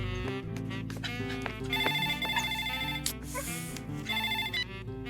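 A phone ringtone plays as a repeating electronic melody, loud and close, with no speech.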